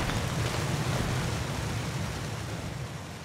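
Very loud waterfalls in the video game Lens Island: a steady, dense roar of rushing water fills the whole stretch without a break, with no voices over it.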